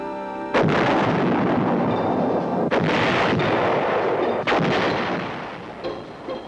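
Heavy artillery fire in Vietnam war footage near Dak To, 1968: loud booming detonations roll into one another, with a few sharp blasts standing out over a continuous rumbling barrage.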